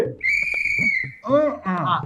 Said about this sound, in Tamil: விசில்லே பதில் சொல்றாரு எது கேட்டாலும் விசில் தான்